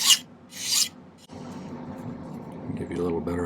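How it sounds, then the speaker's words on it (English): A hand file rasps on a silver pendant bezel in two short, bright strokes, followed by a voice speaking close to the microphone. "I'm going to spend a minute filing this down shorter"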